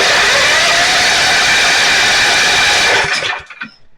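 A Generac 7000 EXL generator engine under repair runs with a loud, steady roar up close, then abruptly sputters and dies away to near silence.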